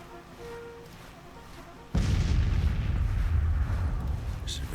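Artillery fire in Grand Tactician: The Civil War, a quiet stretch that gives way after about two seconds to a heavy, sustained low rumble of cannon fire from a distance, continuing to the end.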